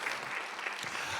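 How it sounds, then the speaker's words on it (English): Brief burst of audience applause for a county supervisor at a Hayward volunteer awards event, a dense, moderately distant patter of clapping throughout. "let's give Supervisor Marquez a big round of applause"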